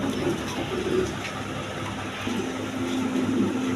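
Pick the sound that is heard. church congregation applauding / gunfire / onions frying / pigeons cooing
pigeons cooing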